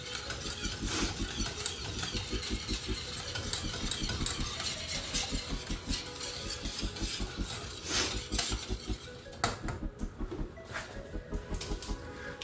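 A spoon scrapes and clinks steadily through baked mac and cheese ingredients being mixed with garlic powder in a dish, a rhythmic stirring with soft knocks against the sides and a low background hum.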